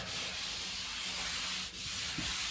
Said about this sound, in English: You can rub it, see if you feel anything, any bumps